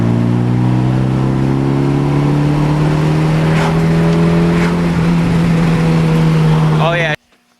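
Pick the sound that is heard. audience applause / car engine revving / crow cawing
car engine revving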